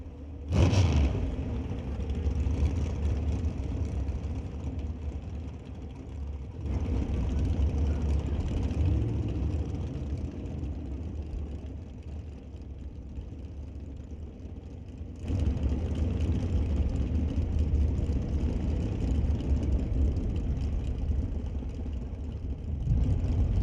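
Drag racing cars, among them a 1932 Bantam, idle at an NHRA Canadian SPORTSnationals heads-up round, a steady low engine rumble heard from a distance that swells slightly twice.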